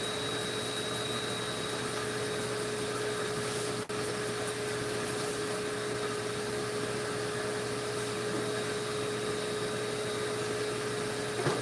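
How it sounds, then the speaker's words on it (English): A vacuum cleaner drones steadily in the background of a knife-making workshop, a constant loud whirring hiss with a steady hum that barely changes throughout. "Can you guys hear the vacuum in the background?"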